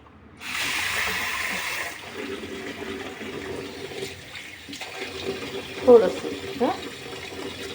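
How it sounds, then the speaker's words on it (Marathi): Water is poured into a small bowl in a kitchen, a short splashing pour followed by quieter trickles and a couple of clinks, with a voice speaking briefly over it. "पाणी ॲड करतोय."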